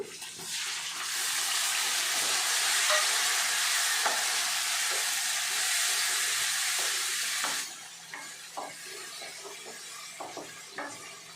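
Tomatoes added to fried onion and green chilli sizzle in a pan with a loud, steady hiss for several seconds, then settle into quieter bubbling with scattered stirring taps and clicks.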